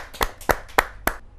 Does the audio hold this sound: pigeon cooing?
no